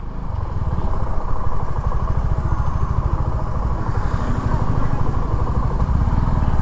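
Suzuki V-Strom motorcycle engine running with a steady, rhythmic mid-pitched thrum and clatter, close and loud throughout, with faint voices in the background.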